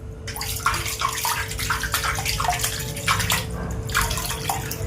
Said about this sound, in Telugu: బియ్యమైనా పప్పు అయినా ఏదైనా ఇట్లనే గాలించుకోవాలి